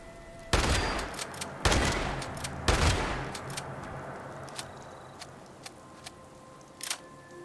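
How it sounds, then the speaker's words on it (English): Three loud gunshot bursts crack out in quick succession at the start as ghouls open fire in Fallout 76, followed by a few fainter, scattered shots and in-game ambience, with no talk. "I'm not used to ghouls having guns."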